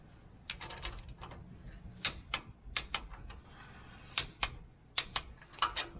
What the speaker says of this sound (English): we're going to go and torque these guys down to 35 foot-pounds, which I already have set on my torque wrench